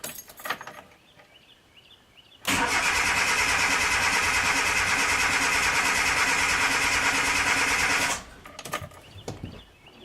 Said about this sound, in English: Start it. Smell gas when I've got this cranking.